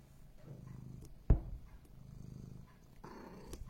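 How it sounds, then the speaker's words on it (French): A domestic cat purrs softly up close in low, rumbling bursts separated by brief pauses, with a short sharp knock partway through. "je crois qu'il ronronne"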